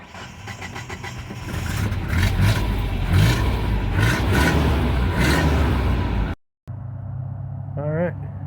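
A 1988 Mazda B2600 pickup's engine runs loud and close with a rough, throaty roar, surging for several seconds before cutting out abruptly. After a brief gap it returns more quietly and ends in a short rising whine.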